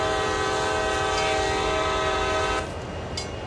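A long, steady train horn blast in a train simulator game sounds loud and continuous for over two seconds, then cuts off, leaving a lower rumbling rail background.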